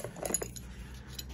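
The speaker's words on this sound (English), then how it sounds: "Handful of turnbuckles." A handful of metal turnbuckles clinking together in a few quick, light metallic chinks near the start, then fading into a quiet background.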